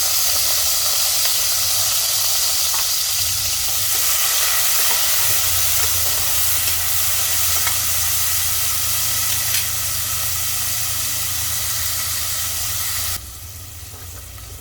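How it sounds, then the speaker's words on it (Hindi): Onions frying on high flame in a pan just used for cauliflower and potatoes, a loud dense hissing sizzle held steady throughout, dropping off sharply near the end, close up with no speech. "प्याज को लाइट गोल्डन होने तक भून लेंगे। हाई फ्लेम पर भून लेंगे इसे इस तरह से चला कर"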